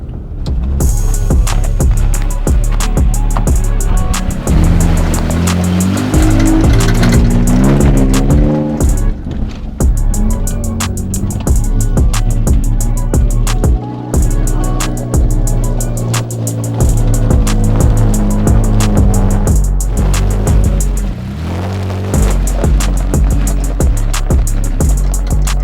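A loud, deep aftermarket exhaust rumble from a Toyota Tacoma pickup driving, the engine note rising and falling as it revs, steady and close throughout.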